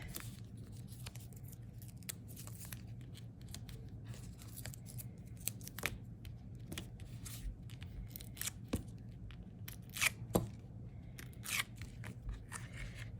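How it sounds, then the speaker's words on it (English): Scissors snip through paper repeatedly in sharp, irregular clicks and crunches, close by and fairly quiet over a low background hum. "So let me get my scissors again."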